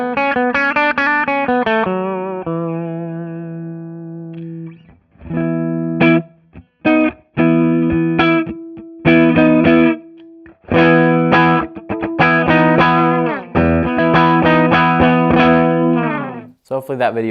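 Electric guitar played through an amp set at the edge of breakup, comparing pickup heights: lightly overdriven chords and single-note phrases with short pauses between, close and loud with no talking.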